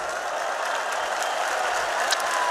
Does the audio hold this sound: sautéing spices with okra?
no